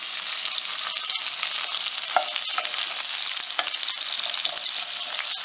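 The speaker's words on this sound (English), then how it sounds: "go ahead, pop them into that hot pan right there" Onions sizzling and frying in a hot pan, a loud, steady crackling hiss that runs continuously throughout with a few brief clicks.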